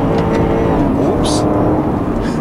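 A 2011 Porsche Panamera Turbo on a mountain road, engine loud and close as it revs hard toward the limiter, a dense roar with a short high burst midway, someone talking over it.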